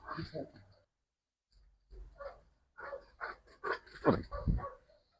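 A dog close by gives a series of short whimpering yelps and soft barks, broken by a pause, then growing louder toward the end.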